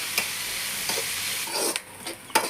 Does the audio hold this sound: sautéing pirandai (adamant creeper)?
yes